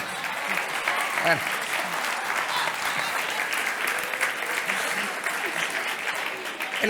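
Audience applause at a lecture or conference fills the room: a dense, steady wash of many hands clapping at moderate volume for several seconds without pause.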